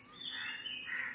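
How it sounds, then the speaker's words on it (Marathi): Birds chirp in a morning outdoor setting, with bright, high, sweeping calls that are moderately close over a soft background hush. "पक्ष्यांचा आवाज."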